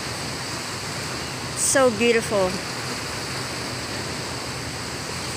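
Steady wash of ocean surf on a Philippine shore, a continuous broad hiss of breaking waves held at an even level throughout, with a person speaking briefly over it near the middle.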